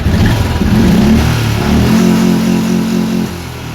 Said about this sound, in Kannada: ನೋಡಿ ಗಾಡಿ ಆನ್ ಮಾಡಿದ್ದೀನಿ, ಸ್ಟಾರ್ಟ್ ಮಾಡ್ಕೊಳ್ತೀನಿ.